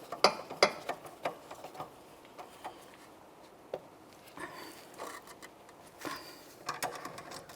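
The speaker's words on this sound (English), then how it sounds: "That's going to hold the stud while we tighten up the nut." Metallic ratcheting clicks from a wrench tightening the nut on a rear sway bar link of a 1999-2003 Toyota Solara, with short bursts of clicks and clanks separated by quieter pauses, close by.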